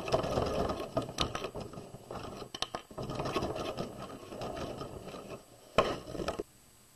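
A sewing machine stitches the lining of a fabric tote bag, running forward and then back-stitching over its own seam, a steady close mechanical whirr with rapid clicking and a few sharper knocks, no voices.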